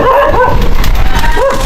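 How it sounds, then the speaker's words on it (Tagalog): Dog barking and yipping outdoors somewhere in the Philippines, a few short barks near the start and again toward the end over steady background noise and murmuring voices. "May aso."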